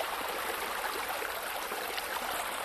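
Water rushes in to flood eggs in a cartoon-style dinosaur video game, a steady broadband gush like a stream or small waterfall that runs alone without pause.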